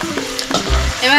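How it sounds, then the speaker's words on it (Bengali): Peanuts frying in oil in a pan after dried chillies, a brief soft sizzle with stirring and scraping, close and alone without talk. "এবারে বাদামগুলো ভাজছি"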